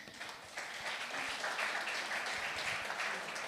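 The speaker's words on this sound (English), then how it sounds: "Applause for them." Audience applause at a tech talks stage event for the Monaco Energy Boat Challenge, steady dense clapping that swells after the first half second and holds at a moderate level throughout.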